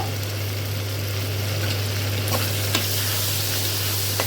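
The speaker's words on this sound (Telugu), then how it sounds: "ఇప్పుడు మనం ఇందాక ఉడకపెట్టుకున్నాం కదా పాస్తాని, ఆ పాస్తాని వేసేసి కలిపేసుకోవాలి" Boiled pasta being stirred into a frying pan of hot masala, a continuous close sizzle with occasional scraping taps of the spoon over a steady low hum.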